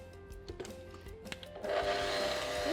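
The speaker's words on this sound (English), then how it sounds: "Mix it on top speed until it's really thick and viscous." An electric mixer whisks eggs, vanilla paste and sugar for a passionfruit sponge. A few soft clinks come first, then the mixer rises to a steady, loud, close whir at top speed and holds it to the end.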